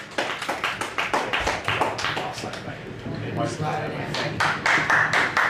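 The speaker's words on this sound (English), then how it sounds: "Ladies and gentlemen, another round of applause," Applause from a live audience for a performer, close and lively clapping that swells and dips over several seconds with a voice speaking partway through.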